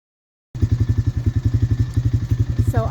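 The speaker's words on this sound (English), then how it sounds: "I'm going to turn this four-wheeler off." A four-wheeler engine runs outdoors in a pasture, starting abruptly and chugging with a steady, fast, pulsing beat, loud and close, with no talk over it.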